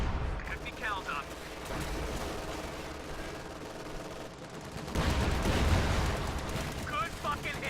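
Heavy .50 cal machine gun fire in Company of Heroes 2 rattles with bursts and booming impacts throughout a dense battle soundscape, growing louder midway, with voices talking over it.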